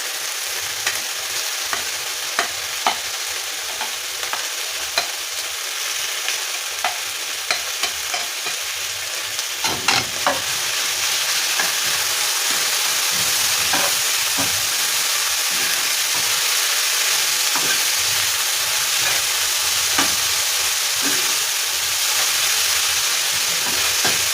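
Red onion and garlic frying as the base of a beef stew, a loud, close sizzle that swells after the ingredients hit the hot pan, with utensil clicks and stirring scrapes along the way.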